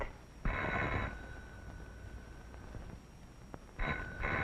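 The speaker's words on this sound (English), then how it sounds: "I think I hear your doorbell ringing." A doorbell rings in two bursts, a long ring and then another after a pause, with a faint tone lingering in between.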